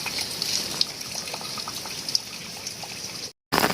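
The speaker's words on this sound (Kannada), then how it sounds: "ನೋಡಿ ಕೆಳಗಡೆ ಭದ್ರಾ ನದಿಗೆ ನೀರು." The Bhadra river flowing beneath a bridge on the Kudremukh state highway, a steady broadband rush of water heard from above, continuous until a brief dropout near the end before resuming.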